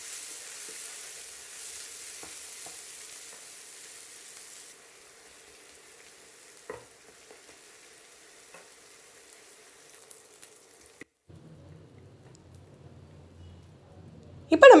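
Onions sautéing in a pan for paruppu urundai kuzhambu give a soft, steady sizzle for the first few seconds, which fades to near quiet with a few light clicks and a sharp clatter at the very end.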